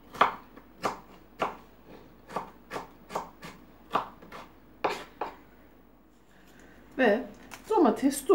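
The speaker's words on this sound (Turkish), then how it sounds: "Ve domates doğruyoruz." A knife chops tomatoes with around ten crisp, evenly paced strikes on a cutting board, close and clear; the chopping stops and a voice starts speaking at the end.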